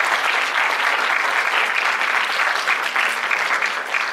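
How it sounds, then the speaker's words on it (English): Sustained applause from a large audience of delegates at a youth conference, dense and steady clapping filling the room without pause. "Can we have a round of applause"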